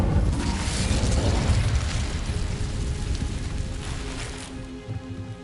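A fiery Incendio spell blast in the video game Hogwarts Legacy, a loud roaring whoosh of flame with a rumbling low burst that fades out over a few seconds.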